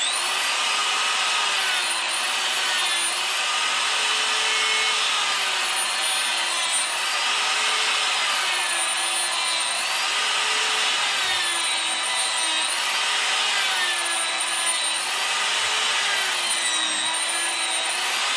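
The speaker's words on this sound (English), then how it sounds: "You'll be using the edge of the burr to create that pattern." A Saburrtooth cross cutter burr on a rotary tool carves a fish-scale pattern into wood, giving a steady high-pitched whine with rhythmic dips as the burr edge presses in and lifts off, loud and continuous throughout.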